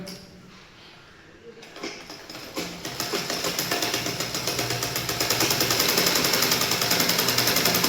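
A sewing machine stitches the side seam of an elastic-waist trouser, starting slowly with scattered thumps and building into a fast, steady, close mechanical rattle that grows louder toward the end.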